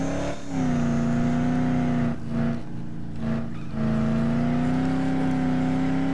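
A video game vehicle engine drones steadily at a near-constant pitch, loud and close, with brief dips in the middle, and no talk over it.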